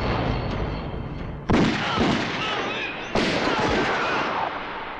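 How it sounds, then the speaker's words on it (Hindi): Two loud gunshots ring out nearly two seconds apart, each cracking sharply and then trailing into a long, echoing tail. "तुमने हम पर गोलियां चलाई,"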